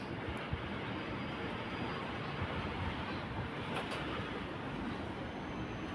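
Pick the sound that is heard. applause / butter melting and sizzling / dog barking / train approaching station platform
train approaching station platform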